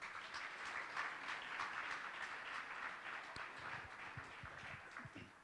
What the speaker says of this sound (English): they deserve one final applause